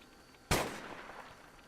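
A single sharp gunshot rings out in the colony game Rimworld, a sudden crack followed by a short fading tail, moderately loud against quiet background noise.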